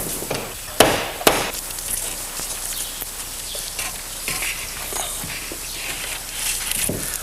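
Hammer blows tacking a member into garage wall framing, two sharp loud strikes early on followed by scattered lighter knocks and handling noise, with no talk.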